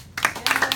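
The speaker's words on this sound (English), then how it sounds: "Let's give every role taker a big round of applause first." A few scattered hand claps from a small Toastmasters meeting audience, several sharp close claps in quick irregular succession over under a second.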